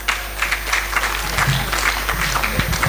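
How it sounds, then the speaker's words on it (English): Scattered applause from a small audience at a golf club candidates debate, uneven claps rising and falling over a low steady hum from the room's sound system. "I think a big round of applause to the two ladies."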